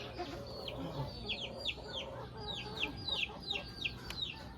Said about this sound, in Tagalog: Grabe yung mga manok na sa baba.